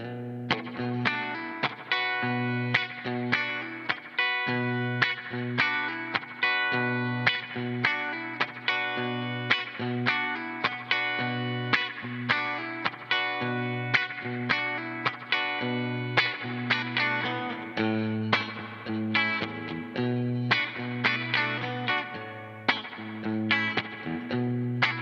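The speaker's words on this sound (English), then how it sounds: "I just want to go with that classic spring reverb" An electric guitar plays rhythmic strummed chords through a multi-effect pedal set to a classic '63 spring reverb, each strike ringing out with a splashy, lingering tail, steady and alone without talk.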